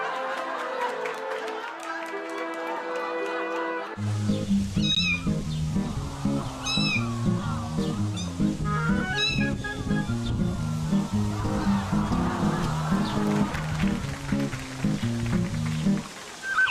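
A run of cat videos: cats meow again and again in quick, varied calls over a busy background of music and crowd noise, following a short musical opening.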